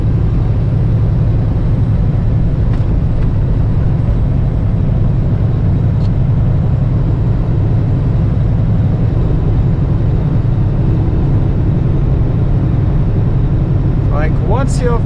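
A light single-axle truck hauling three trailers drives along a snowy, icy road in a North Dakota snowstorm, giving a loud, steady low rumble of engine and road noise that fills the whole stretch without a break.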